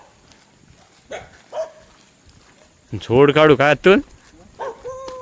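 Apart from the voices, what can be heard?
dogs barking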